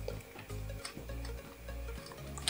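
A cat eats nearby with quiet, rhythmic crunching and clicking chews that repeat steadily under a low background hum.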